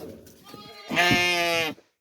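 A ewe calling for her lambs on a Turkish village farm lets out one loud, close, wavering bleat lasting under a second, after brief softer animal and human sounds.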